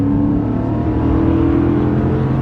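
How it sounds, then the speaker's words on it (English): A 2014 Ford Raptor's V8 roars steadily and loud as the truck accelerates hard from 0 to 60 in two-wheel drive, a continuous close engine drone with rising tone throughout. "The V8 sounds really good."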